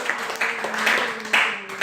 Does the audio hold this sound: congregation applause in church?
yes